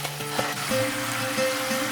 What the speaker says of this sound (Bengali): এরপরে আবার একটু কষিয়ে নিচ্ছি।